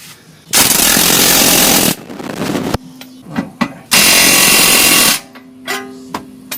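Power ratchet or impact tool snugging control arm bushings on a Porsche 928 during a manual transmission swap, two loud sustained bursts of rapid rattling separated by quieter clicks and handling noises.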